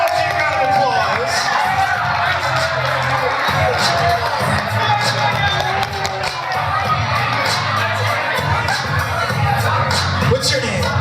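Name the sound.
audience applause and cheering for a school volunteer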